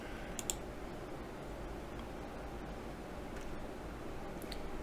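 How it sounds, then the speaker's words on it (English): Sparse, faint computer mouse and keyboard clicks during a Farming Simulator 2017 session, a few isolated ticks scattered over a low steady room hum, with no talking. "Pardon my clicking."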